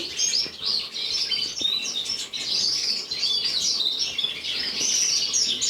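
Canaries keep up a steady stream of high, rapid chirps and trills in a canary room while birds are hand washed, close and lively with faint wing flutters and no speech.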